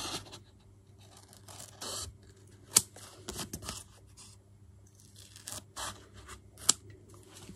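Scissors cut down a specimen card and foam up close in bursts of crisp snips and scrapes, with two sharp clicks standing out among quieter pauses.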